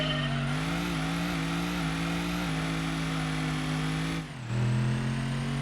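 A muscle car in Gran Turismo 2 racing up through its gears, the engine note climbing steadily then dropping sharply at a shift before rising again, loud and continuous with no voices.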